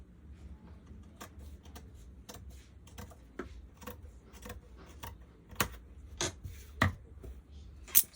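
Scissors snip through red dress fabric in a quiet room, a series of faint, irregular cuts that grow a little sharper and louder toward the end.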